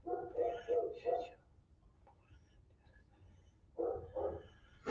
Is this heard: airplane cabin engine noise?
no